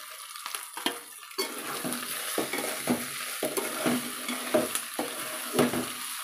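Potatoes being stirred into a pan of frying ginger-garlic paste, onions and oil, for a puri curry: steady close sizzling with repeated scraping spoon strokes at a regular rhythm, no talk.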